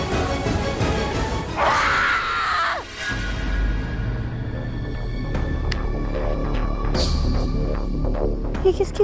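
A person screams in a tense TV serial scene, a high, strained cry rising over a steady low hum and background noise, followed by scattered knocks and clatter.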